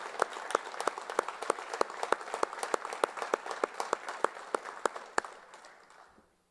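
Applause for an honoree at a high school hall of honor induction ceremony, a steady round of clapping from a modest audience with distinct individual claps, fading out after about five seconds.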